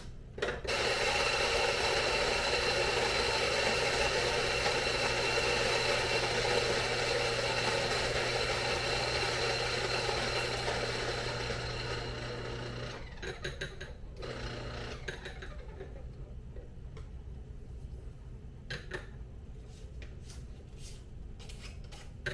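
A grinder grinds coffee beans with a steady, fairly quiet whirring drone that runs about thirteen seconds before fading into scattered scraping and tapping.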